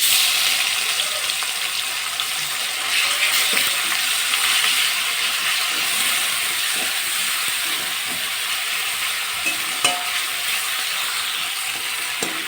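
Chopped medium-sized onion fries in hot oil with black cumin in a pan, giving a steady, dense sizzle and hiss that holds evenly throughout, with occasional faint stirring clicks.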